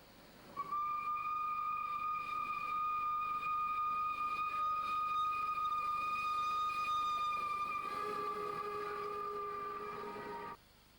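A steam locomotive hauling a pilgrim special to a religious festival sounds a long, loud, steady whistle that holds for about ten seconds, shifting to a richer chord near the end before stopping sharply.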